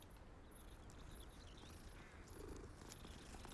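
A cat in Hogwarts Legacy purrs softly and low, very faint and continuous under light insect-like chirps in the background.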